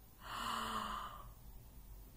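A single deep breath is drawn in through a wide-open mouth during a throat and voice relaxation exercise, a soft airy rush lasting about a second, close and quiet, followed by stillness.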